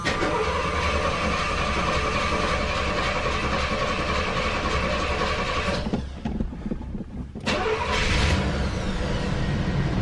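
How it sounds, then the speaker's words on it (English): A 1983 Oldsmobile Cutlass Supreme with a newly dealer-installed motor cranking and firing on a cold start, a loud continuous engine roar that briefly dips and sputters before surging back to a steady run. "let's give this thing a cold start"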